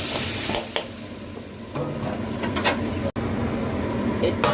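Sugar being stirred into a cooking pan, a steady scraping and soft sizzle with repeated spoon strokes against the metal, close and continuous for several seconds.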